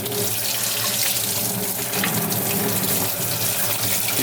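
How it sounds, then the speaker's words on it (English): A carburetor is rinsed under a steady, loud stream of running tap water splashing into a sink, continuous for several seconds with no talking. "we're just going to rinse it quick"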